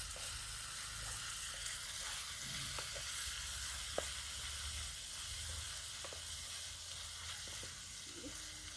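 Chicken liver pepper fry with black pepper powder being stirred in a pan, a steady low sizzle running throughout with soft scraping stirs now and then.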